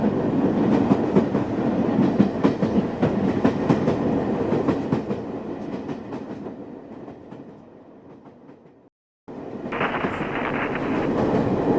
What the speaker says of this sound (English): the train moving off into the distance, then turning right around a corner and disappearing from view